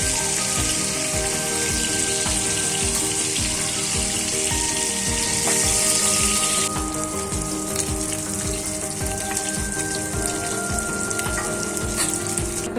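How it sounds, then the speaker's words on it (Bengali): Katla fish pieces fry in hot oil with a loud, dense, unbroken sizzle and crackle that holds steady throughout, close up and with no talking. "এখন মাছগুলোকে আমি ফ্রাই করে নিই।"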